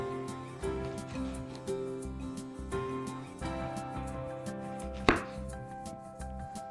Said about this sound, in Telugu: yellow క్యాప్సికమ్, దీన్ని కూడా కట్ చేసుకుందాము.